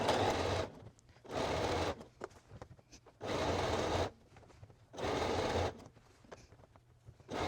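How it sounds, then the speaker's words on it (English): A domestic sewing machine topstitches a seam allowance on a knit top in four steady bursts of rapid whirring, each about a second long, separated by quieter pauses with small clicks and handling noises. "we're just sewing, top stitching that seam allowance towards the body"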